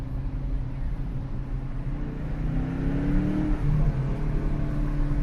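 A 2015 Shaker car with a 5.7 engine idles and rises into a steady rev, a low rumble with climbing pitch, close and continuous, with no voices.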